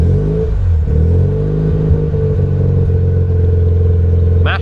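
A Mazda FC RX7 rotary engine, being converted from naturally aspirated to turbo, runs close and loud, holding a steady rough idle and rising into revs with a brief higher whine at the end.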